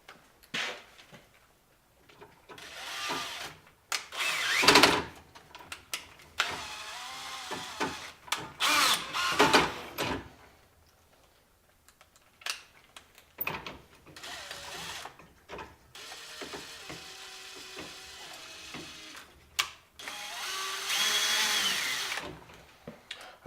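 Power drill driving screws into a Dixie Narco BevMax vending machine during an upgrade, heard as repeated short whirring bursts with ratcheting clicks and pauses between them, close and fairly loud, no talk.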